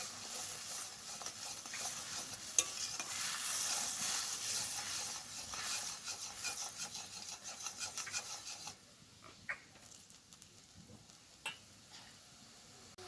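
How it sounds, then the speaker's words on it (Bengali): Spice masala for egg curry sizzles and is stirred in a pan, a steady scraping fry for about nine seconds that then thins to sparse, quieter stirring scrapes. "দেখো, মশলাটা একটুখানি কষিয়ে নিয়েছি"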